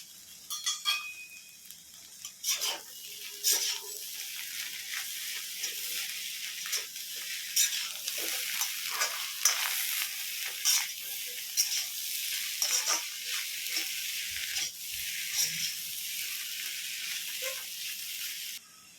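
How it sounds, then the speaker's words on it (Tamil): Boneless chicken is stirred in a hot pan while cooking chicken rice, giving a steady sizzle broken by scraping strokes and light clinks of the utensil against the pan, close by with no voices. "சிக்கன் ஒரு போன்லெஸ் சிக்கன் இது. இதை அப்படியே வச்சு மிக்ஸ் பண்ணிக்கலாம்."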